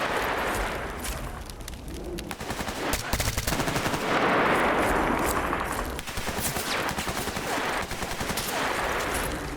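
Sustained enemy gunfire from Stalker: Shadow of Chernobyl: dense, loud bursts of automatic fire rattling through a building, continuous for the whole stretch without pause.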